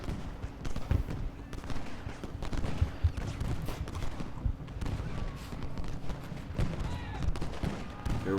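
Sustained gunfire and artillery from a Gettysburg Civil War battle in the strategy game Ultimate General: Gettysburg, a dense continuous rattle of musket volleys with heavier booms scattered through it.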